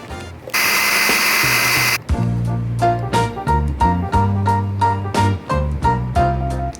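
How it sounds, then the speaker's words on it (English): An electric mixer creams sugar and butter for blueberry muffins, first as a loud continuous whir, then in a run of short, rhythmic loud bursts. "We also need to cream the sugar and butter together"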